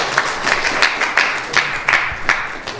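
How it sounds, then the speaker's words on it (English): An audience claps through a round of applause at a Sunday feast gathering, a dense, steady patter of many hands, close and fairly loud, with no talking. "Please give them a big round of applause."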